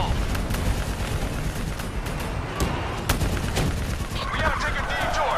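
Gunfire in Call of Duty Black Ops 3 combat against a VTOL crackles in dense, repeated bursts amid booming explosions and battle noise, with shouted voices mixed into the chaos.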